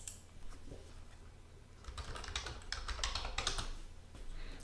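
Typing on a computer keyboard while entering patient notes into medical appointment software: soft, irregular key clicks at close range, sparse at first, then dense rapid bursts, with no voices.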